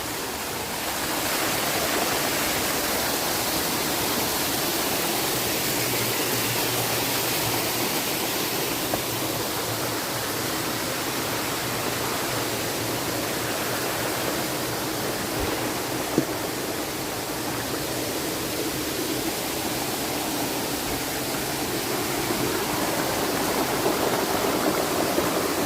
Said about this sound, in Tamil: இங்கே ஒரு ஃபால்ஸ் இருக்குது பாருங்க.